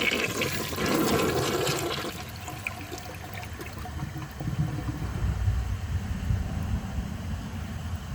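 A 2004 Gerber Aqua Saver toilet with its water level raised flushes nearby, a rushing burst for about two seconds, then a softer gurgling drain and trickle as the bowl refills.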